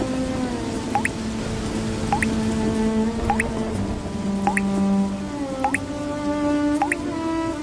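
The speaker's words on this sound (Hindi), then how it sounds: "अजी देखिए, पूरी छत से पानी टपक रहा है।" Rainwater drips steadily through the roof of a hut during heavy rain, each drop landing with a close, distinct plink in an uneven rhythm over a soft wet background, with no talking.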